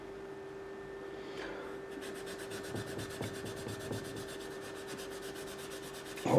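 Quiet hand polishing on a fret of a Jackson DK2M Dinky guitar, a soft rhythmic rubbing with faint scratchy strokes over a steady low hum, close but low in level.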